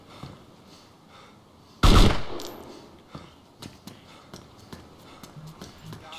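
A single loud, close gunshot bursts out in the survival game DayZ, followed by scattered faint clicks and small knocks of movement, with no talking.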